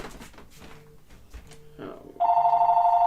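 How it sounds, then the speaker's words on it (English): A telephone bell starts ringing partway through, loud, steady and close, cutting in right after someone talking over a quiet craft table. "Of course the phone's ringing."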